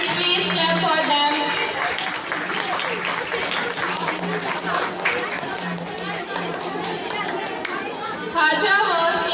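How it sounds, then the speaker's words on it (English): Parents applaud at a school annual prize distribution ceremony, a steady wash of clapping from a crowd mixed with chatter and voices, lasting throughout and swelling again near the end. "Parents, please clap for them."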